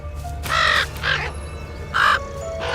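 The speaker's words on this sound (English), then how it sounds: "Or the crow." A crow cawing in a spooky video game with a pumpkin patch, several harsh loud caws in an uneven rhythm over a low droning background.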